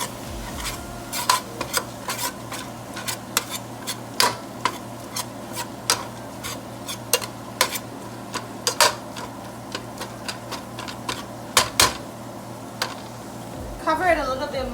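A spatula scrapes and taps against a pan as ground beef fries with onions and garlic, giving a steady run of sharp clicks over a low sizzle.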